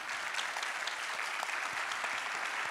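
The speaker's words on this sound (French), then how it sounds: "je trouve que notre formidable panel mérite vos applaudissements de tonnerre" An audience applauds a panel at an energy-policy citizen consultation event, a steady, dense wash of many hands clapping filling the whole stretch at even loudness, with no voices over it.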